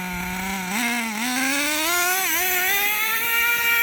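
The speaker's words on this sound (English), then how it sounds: "Solomon driving the TMaxx" A vintage nitro-powered TMaxx RC truck drives nearby, its small engine buzzing with a high, wavering whine that climbs steadily in pitch as it accelerates, with no voices heard.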